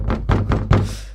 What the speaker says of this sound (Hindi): ऑटो ड्राइवर दरवाजा पीट पीट कर जोर जोर से चिल्लाने लगा